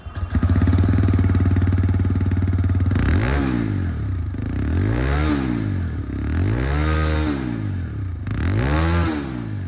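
A TVS Raider 125 motorcycle's engine and exhaust, heard up close: a steady idle putter for about three seconds, then four rising-and-falling throttle blips that rev the engine up and let it drop back, alone without talk.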